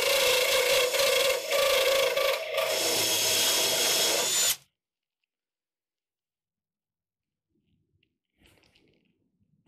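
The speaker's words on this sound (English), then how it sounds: "Once you get your drill bit on there, even just get it centered on there, have it spin, make a nice little hole" A power drill bores out spot welds on a Cougar body panel with a loud, steady grinding whir for about four and a half seconds, then stops abruptly, followed by near silence and a faint rustle.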